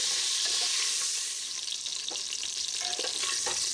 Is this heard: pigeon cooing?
no